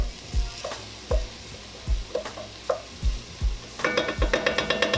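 Beef stew with flour cooking in a pot, stirred with a rhythmic series of scraping strokes over a continuous sizzle, the strokes quickening toward the end, no voices.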